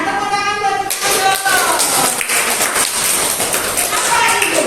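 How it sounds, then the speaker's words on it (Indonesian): Schoolchildren in a class applaud Ricardo with a loud, dense burst of clapping that begins abruptly and carries on steadily, with a voice speaking just before it starts. "Tepuk tangan buat Ricardo."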